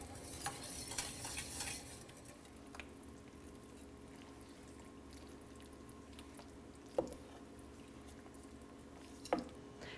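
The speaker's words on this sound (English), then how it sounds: "we're gonna add this sauce to our vegetables" Sauce poured and stirred into a pan of vegetables for a mushroom and barley pot pie: a soft, splashy burst at the start, then quiet with a couple of faint clicks.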